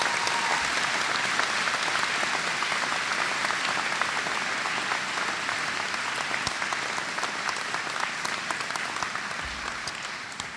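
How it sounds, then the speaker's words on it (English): Audience at a 2019 university convocation ceremony breaks into sustained applause, a dense, even patter of many hands clapping that continues for over ten seconds and eases slightly toward the end. "could I have a round of applause for Robin Jacobson?"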